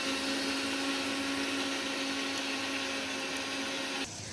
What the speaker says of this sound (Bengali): দেখো মা ততক্ষণ পোস্তটা বেটে নিচ্ছে